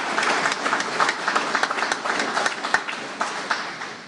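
An audience at a government and university announcement event applauds in a short, steady round of clapping that carries on for about four seconds without breaks.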